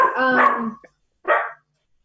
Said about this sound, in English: Even my dog is excited.